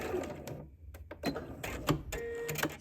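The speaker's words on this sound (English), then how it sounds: "I'm just going to go ahead and stitch" A sewing machine stitches bias tape onto a jacket lining 7/8 inch from the raw edge, running in short bursts of mechanical whirring and clicking with brief pauses between them, close and moderately loud.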